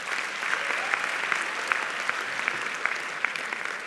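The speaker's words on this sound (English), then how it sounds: "Please give them a round of applause once again." A graduation ceremony audience applauds a performing choir with sustained, even clapping and occasional louder individual claps, filling the hall at moderate volume.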